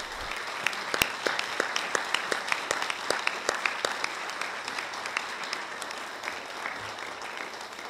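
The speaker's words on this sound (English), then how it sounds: "I'd like to give them a round of applause, please." Audience applause fills a press conference on human trafficking, steady and sustained for the whole stretch, with sharp individual claps standing out over the dense crowd clapping.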